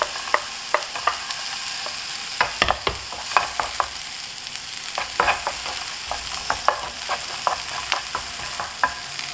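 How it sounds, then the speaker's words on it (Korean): Chopped onion sizzles in melted butter in a pan as it is stirred, a steady hiss broken by frequent sharp scrapes and taps of the spoon, close and clear with no talking. "버터를 좀 넣어주시고 양파, 당근, 샐러리 순서로 볶겠습니다"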